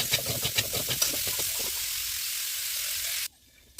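Potatoes sizzling in hot oil as they are slowly stirred in a pot over a clay pipe stove. A steady broad hiss carries scraping stir strokes at first, then the sound cuts off abruptly near the end.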